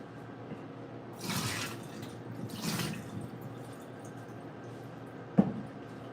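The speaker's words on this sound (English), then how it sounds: "I'm gonna have to pour out some of this water." Water pours into a kitchen sink in two brief splashing bursts, with a sharp clink near the end and no talking.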